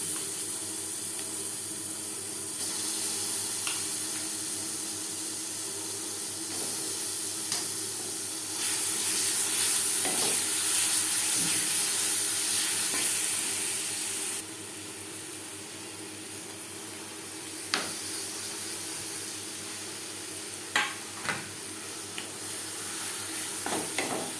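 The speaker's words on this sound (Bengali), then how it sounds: "ঘিও এলাচের সাথে ছানা বেশ ভালো করে মিক্সড করে দেবো" Chhana mixed with ghee and cardamom in a pan for makha sandesh, giving a steady low sizzle with soft scraping stir strokes and a few sharper spatula taps, no talking.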